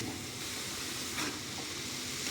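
Chopped beans and ginger frying in a pan, a steady soft sizzle with a brief stir partway through, close and continuous with no talk over it.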